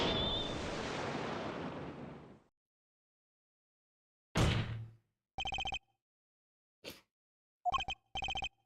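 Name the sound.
cell phone ringing in the video game Apollo Justice: Ace Attorney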